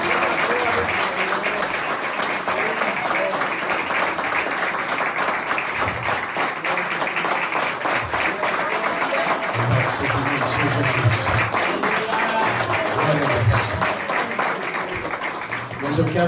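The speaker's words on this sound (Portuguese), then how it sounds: "Aplauda ao Senhor com fé" A church congregation applauds steadily and loudly throughout a worship service, a dense continuous wash of clapping with voices faintly underneath.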